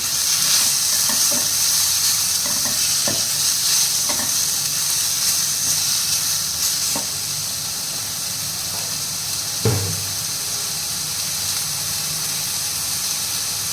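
Boneless chicken pieces coated in garlic stir-frying in a pan, giving a steady close sizzle and hiss with occasional light scraping stirs throughout.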